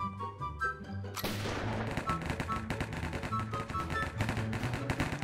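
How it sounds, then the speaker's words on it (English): Gunfire in a Minecraft game rattles in rapid, dense bursts of cracking shots. The shots are fairly loud and run continuously, with background game sounds underneath. "A lot of gunshots over here."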